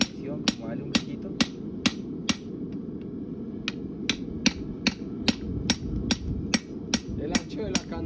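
Soft, evenly spaced hammer blows on rebar being shaped into a horseshoe channel, about sixteen light metallic taps over a low hum of background noise, fairly close.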